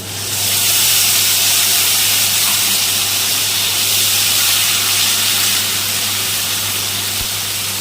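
Poppy seed paste hits hot oil with green chillies, dried red chillies and nigella seeds, giving a loud, steady hiss and sizzle that rises quickly and holds for several seconds without talk.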